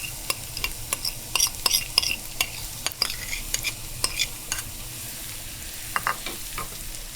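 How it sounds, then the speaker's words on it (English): Garlic frying in hot oil for a Persian herb and noodle soup: a close, continuous crackling sizzle, punctuated by repeated metallic scrapes and taps of a utensil stirring the pan, without any speech. "I'm gonna drop all the garlic in there and let it fry till it gets golden."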